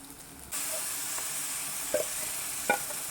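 Masala frying in a pan for a Horowa fish curry bursts into a steady close sizzle after a brief quiet start, with a few light utensil taps and stirs.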